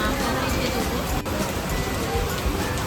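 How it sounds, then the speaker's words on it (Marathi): A heavy rain shower falls during a motorbike trip near Trimbakeshwar, Nashik, as a dense, continuous hiss of rain. Faint voices sit underneath. "आत्ता जाऊन कुठे पाऊस आलाय पावसाची मोठी सर लागली आहे"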